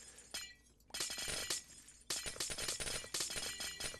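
Clear glass blocks break in a Minecraft-style game, a rapid run of crisp shattering crashes arriving in quick bursts with short gaps between them.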